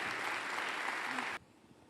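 Loud, dense applause from a seminar audience at a Gita gathering in Sydney fills the space steadily, then cuts off abruptly near the end into quiet room noise.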